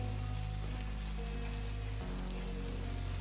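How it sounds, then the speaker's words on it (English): Rain pours in Farming Simulator 25, a dense steady patter that fills the background alongside a low droning hum from the surroundings. "Oh, the sound of the rain is so pretty right now."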